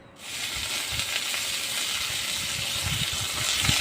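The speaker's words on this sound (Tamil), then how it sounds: "நல்லா வதங்கட்டும்." Curry leaves and onions sauté in a pan for a raw banana kootu. A loud, steady sizzling hiss starts suddenly and keeps going, with faint stirring rumbles underneath and no talking.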